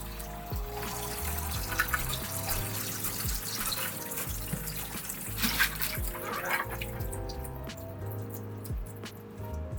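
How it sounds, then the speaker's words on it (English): Water sloshes and splashes steadily as grain is rinsed clean for grain spawn, with some drips and a low background hum running throughout and no talking. "now that we have our grain cleaned, as you can see the water is no longer dusty"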